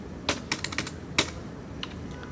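Keys clatter on a computer keyboard in short bursts of quick taps separated by brief pauses, close and fairly loud, with no speech.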